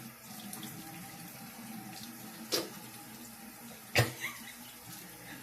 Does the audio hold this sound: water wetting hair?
yes